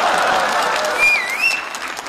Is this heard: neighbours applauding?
yes